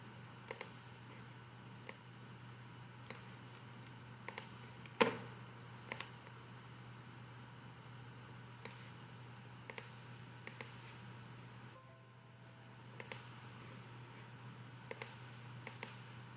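Sharp, isolated computer mouse clicks, roughly a dozen at irregular intervals, some in quick pairs, close and clear over a quiet background hum.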